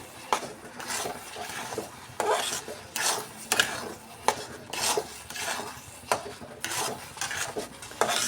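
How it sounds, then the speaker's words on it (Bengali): A thick Gobindobhog rice sweet mixture is stirred again and again in a pan, each pass giving a loud rhythmic scrape and rasp of the spoon against the pan, close up and with no talk. "এভাবে করে বারবার নাড়তে হবে"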